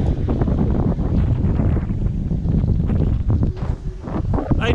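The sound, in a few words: strong wind at sea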